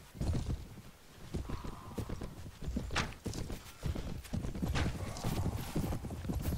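Horse hooves pound in a quick, steady galloping rhythm in the video game Mount & Blade, close and loud, with a brief whinny in the middle.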